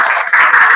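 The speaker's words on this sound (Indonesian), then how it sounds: "Tepuk tangan buat kita semua." Applause from a primary school class in a lesson on halal and haram, a dense steady wash of many small hands clapping together, fairly loud and close, with no talk over it.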